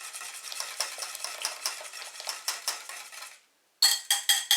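A spoon stirs raspberry juice into cream in a bowl, with rhythmic clinks and scrapes repeating steadily, then a short pause before the stirring starts again, close and clear.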